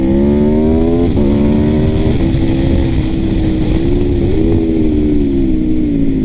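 An Aprilia RSV4 sport motorcycle engine, 217 hp, revs loudly and steadily, climbing in pitch, with brief dips at each gear change as it accelerates.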